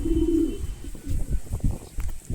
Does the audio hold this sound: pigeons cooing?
yes